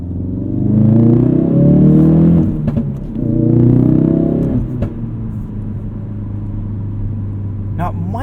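Modified Ford Performance Focus RS engine in sport mode, heard from inside the cabin as a deep rumbling drone that swells twice, then settles to a steady idle-like hum with a few clicks.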